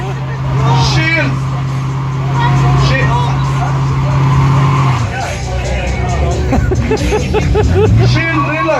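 A muscle car does a burnout at the Dubai Gulf Car Festival: a loud, sustained engine roar with tire noise runs throughout, under a crowd's babble and shouting.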